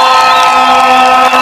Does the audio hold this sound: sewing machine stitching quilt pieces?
no